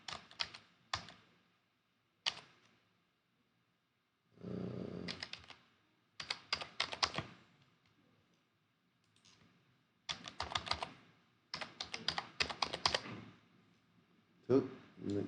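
Someone types a password on a computer keyboard in bursts of rapid key clicks separated by pauses, close and fairly quiet, with a voice talking in between.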